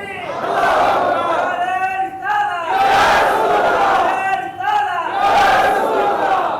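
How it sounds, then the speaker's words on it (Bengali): A crowd chants the Nara-e-Risalat religious slogan in loud, rhythmic bursts of massed voices, three swelling shouts in quick succession at a Bangla-language Islamic sermon gathering led by Maulana Mosharraf Hossain Helali. "নারায়ে রিসালাত, এটা ঈমানের স্লোগান, এটা ঈমানের স্লোগান"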